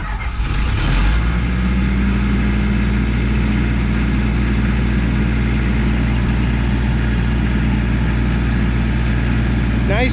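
An MEP-804A military diesel generator starts and settles into a loud, steady running drone with a constant low hum and tonal whine, continuous for the full length.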